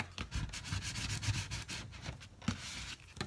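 A glued paper envelope flap is burnished by hand, making uneven, close rubbing and scraping strokes with one sharper scrape near the end; no one speaks.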